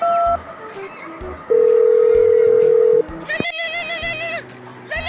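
A mobile phone is dialed: key tones sound briefly, then a steady tone holds for about a second and a half, followed by a rising electronic chirp and ringing tones.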